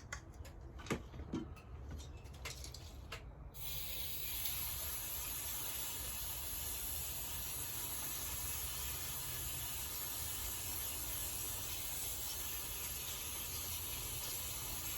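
Carburetor cleaner sprays onto the parts of a Partner R420 chainsaw, a steady, close, loud aerosol hiss that runs without a break after a few soft ticks and clicks at the start.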